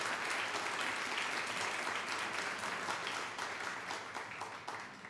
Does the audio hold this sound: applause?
yes